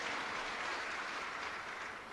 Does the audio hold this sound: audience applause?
yes